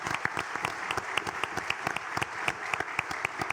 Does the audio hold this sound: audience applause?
yes